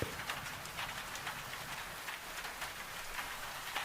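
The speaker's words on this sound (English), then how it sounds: "rain on old Highland slate on a dark and wet April evening" Rain patters on an old Highland slate roof on a dark, wet April evening as a soft, even hiss with faint scattered drips, quiet and distant.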